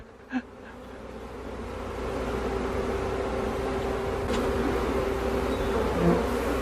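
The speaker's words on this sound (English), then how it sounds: "all these bees are gonna go in that hive right there" A swarm of thousands of bees fills a backyard with a continuous, dense buzzing hum, steady and fairly close, with a brief knock near the start.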